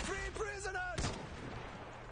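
Artillery and gunfire in Iron Harvest, a real-time strategy game set in an alternate 1920: one heavy blast lands about a second in and rumbles away, after a stretch of tonal, voice-like sound near the start.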